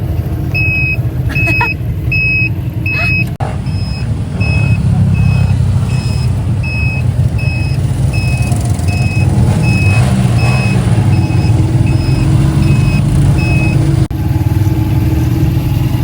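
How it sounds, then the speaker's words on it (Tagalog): A motorized tricycle's engine rumbles steadily and close for the whole stretch. A repeating two-tone electronic beep, like a reversing alarm, sounds over it for most of the time, and no voices are heard. "Nakasakay siya sa tricycle."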